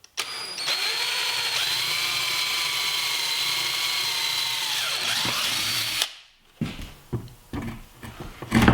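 A power drill bores a hole in a wooden board, its steady whine running loud and close for about six seconds before winding down, followed by scattered handling clatter and knocks.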